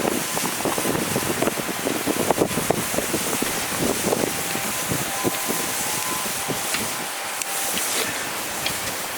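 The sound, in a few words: wind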